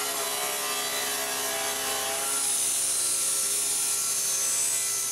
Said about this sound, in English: First thing to do is to cut it in two.